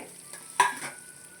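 Curry leaves, mint and coriander hit hot oil in a pan with a short, quiet sizzle and a stirring scrape, one brief burst over faint background hiss.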